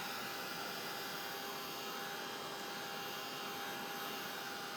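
A clothes dryer running without heat gives off a steady, unbroken whirring drone with a faint high whine. It stays even and alone from start to finish, with no voices.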